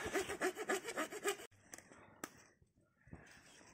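A hand saw cuts wood in a snowy forest, giving about eight quick, rhythmic rasping strokes close up. It then falls into quieter rubbing, a couple of knocks and faint scraping.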